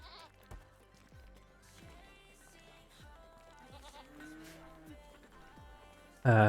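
Goat bleating in the Rimworld video game, a few short calls over soft, steady game music, with a loud burst at the very end.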